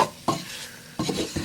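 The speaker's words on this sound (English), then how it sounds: "We're going to mix this up, get everything combined, let that flour and the paprika absorb" Flour and paprika being stirred into fat in a pan for chicken paprikash, with a few quick scraping strokes of a utensil over a faint sizzle, close and brief.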